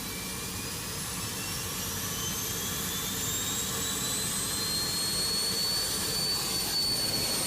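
Simulated Rolls-Royce jet engine on a Boeing 757-200 in the X-Plane 12 flight simulator, a steady broadband roar with high whining tones gliding slowly upward, loud and continuous throughout.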